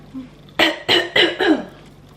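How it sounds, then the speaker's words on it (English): Four quick, loud coughs in a row, evenly spaced and close up, with a faint murmur of background noise. "is this another side effect of the booster? Constant cough"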